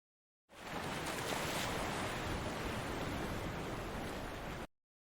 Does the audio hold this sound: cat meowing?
no